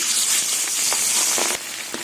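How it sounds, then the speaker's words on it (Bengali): Fish frying in hot oil in a kadai, a dense steady sizzle with scattered sharp crackles and pops, loud and close, easing slightly near the end. "এবার মাছগুলো তেলে ভেজে নেব"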